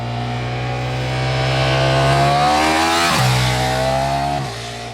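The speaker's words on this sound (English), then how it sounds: "from behind the handlebars, there's no issue in terms of volume from this V4 engine" A 2023 Ducati Diavel V4 motorcycle engine runs loud and close with a steady tone. Its pitch climbs smoothly, then drops sharply twice as the bike shifts through gears, with no talk over it.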